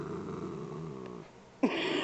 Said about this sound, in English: he doesn't start growling until I tell him to